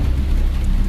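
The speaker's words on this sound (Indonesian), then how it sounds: "ditemani suara derasnya hujan" Heavy rain pours down, heard from indoors while lying in bed, a dense, loud, unbroken hiss with a low rumble that holds steady throughout.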